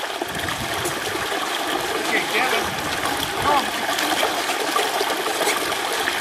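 A puppy swims through open water on its first swim, with steady splashing and trickling close by under continuous broadband water noise, while people talk nearby.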